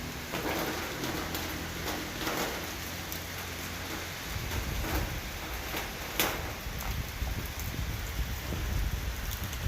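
Steady rain falling continuously with wind, a broad hiss with spattering drops throughout, with a faint low rumble early on.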